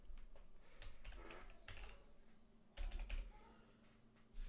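Close, quiet typing on a computer keyboard comes in short bursts of rapid key clicks with brief gaps, a note being entered during trading chart work.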